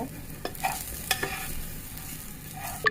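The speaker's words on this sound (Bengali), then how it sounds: "এখানে এখন এটা একটু লাল করে ভেজে নেব পেঁয়াজটা হয়ে গেছে" Onion fries in a pan until reddish, giving a constant sizzle punctuated by several sharp scraping strokes of a spatula stirring.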